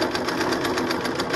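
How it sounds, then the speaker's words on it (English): Sewing machine stitching a fabric face mask down its 9-inch side over elastic: fast, even mechanical chatter that runs continuously and loud up close for the whole brief moment, with no voice. "sew all the way down the length of the 9-inch side over that elastic again and turn"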